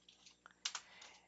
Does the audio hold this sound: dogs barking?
no